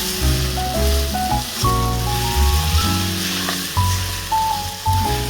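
Onions fry in a pan, browning, and a steady hiss of sizzling runs under loud background music throughout.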